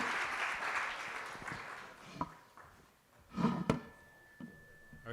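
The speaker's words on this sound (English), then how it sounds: "So please give them a warm round of applause." Applause from an audience for panelists at a marketing breakfast briefing, fairly quiet and distant, tapering off with a few louder knocks and a brief voice partway through.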